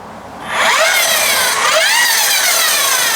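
A string trimmer converted into a saw starts up and runs alone at a steady high-pitched whine, its pitch rising and dipping as the engine revs, loud and close throughout.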